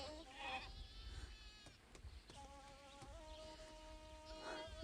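Several lambs bleat in overlapping, wavering cries at low level, some nearer and some farther off, over a buzzing insect hum and outdoor background.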